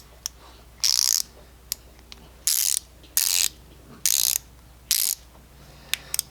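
A Tekton folding ratchet clicks in five short bursts of rapid pawl ratcheting, close and crisp against a quiet background, with a few single ticks between the bursts.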